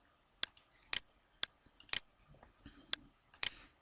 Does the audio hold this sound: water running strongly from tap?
no